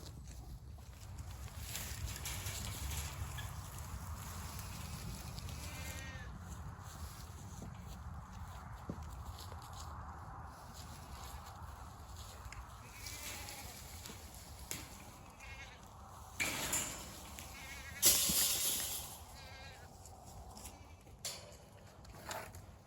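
Goats in a pen bleat now and then over a steady outdoor background, with footsteps and shuffling nearby and a louder burst of movement toward the end.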